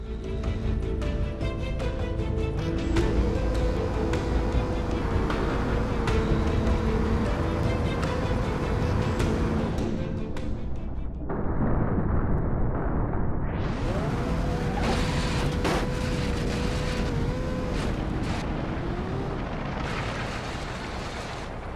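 In BeamNG, a car tearing off its underside and loosening a rear wheel at very high speed makes a loud, continuous roar of engine and scraping metal. The noise drops off abruptly partway through, then surges back just as harsh.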